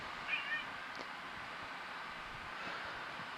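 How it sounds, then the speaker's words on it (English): A hungry pet cat named Pepper gives a short meow early on, fairly faint against a steady background hum in a kitchen, with no talking. "My cat's down there telling me she's hungry."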